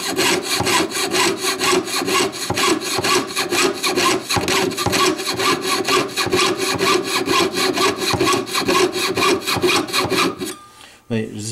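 A hand saw cuts through wood along a marked line in fast, regular back-and-forth rasping strokes, loud and close with no talk, ending in a brief pause.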